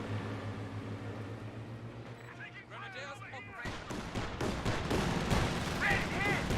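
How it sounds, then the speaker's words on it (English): An M15A1 anti-aircraft halftrack firing in a Company of Heroes 2 battle, rapid loud bursts of automatic gunfire building in the second half, mixed with explosions and a commentator's voice. "M15A1 firing away."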